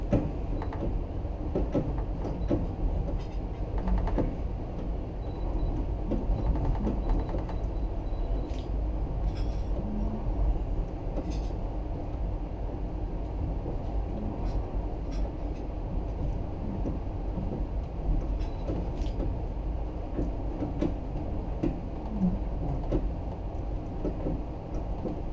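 A passenger train rolls along the tracks with a steady, loud low rumble, and scattered clanks and rattles surface over the continuous roar throughout.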